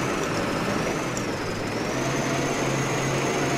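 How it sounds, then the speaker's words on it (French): Small tractor engine from the Farming Simulator 15 game idling steadily and close, a constant buzzing drone with a high whine on top, alone with no talk. "ce que j'aime beaucoup moi dans ce petit tracteur, c'est, je vais vous le montrer juste après, hop, c'est le bruit."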